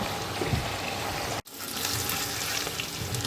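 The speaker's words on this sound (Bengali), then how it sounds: "পনিরগুলো হালকা করে একটু ভেজে নেব।" Paneer frying lightly in a pan for a mixed vegetable dish, a steady close sizzle with watery crackle running throughout, cut by one brief dropout partway through.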